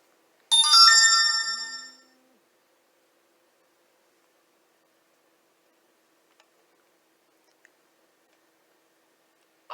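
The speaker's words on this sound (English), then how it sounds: "my phone just went off." A phone ringtone chimes briefly, a bright tonal jingle lasting about a second and a half before cutting off into near silence with a couple of faint ticks.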